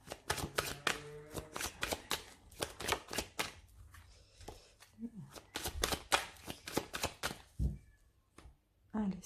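A deck of tarot cards is shuffled and cut in a rapid run of crisp, close riffling snaps and slaps, with a few heavier knocks as the deck is squared.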